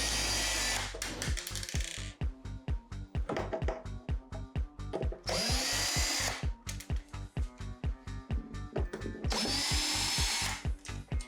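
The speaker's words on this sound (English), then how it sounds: "you can go ahead and use your power tool, and this will make the job quicker" A power drill loosens screws on a broken bureau drawer, with close, loud bursts of whirring, several long runs alternating with rapid chattering pulses and clunks, no talking.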